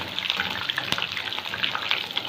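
Chicken pieces fry in hot oil, giving a close, busy crackle with scattered sharp pops and one louder spatter partway through; no one speaks.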